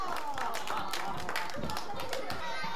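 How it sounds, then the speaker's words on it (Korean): A children's audience claps together before a performance at a winter children's theater festival, a dense patter of small hands mixed with lively young voices throughout. "그럼 우리 박수 치면서 웃어볼까?"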